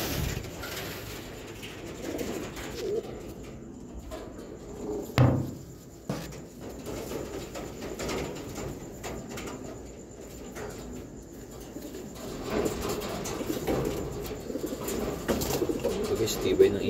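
Racing pigeons coo softly in the background amid outdoor ambience, with a few faint thumps and flutters and some low talk nearby.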